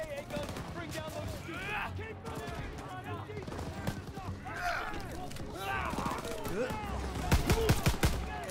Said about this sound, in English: That's flak fire in the distance.